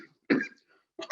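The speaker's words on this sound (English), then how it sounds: "I apologize for my cough." A man coughs twice in quick succession, short and close, with a brief gap between the two bursts and quiet around them.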